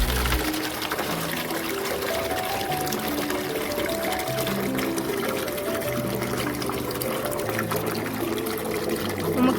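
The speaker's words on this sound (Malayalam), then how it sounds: "നമുക്കിതാ വെള്ളം ഒഴിക്കാം." Clear water pours into a new fish tank in a steady, gurgling stream that runs continuously at close range without pause.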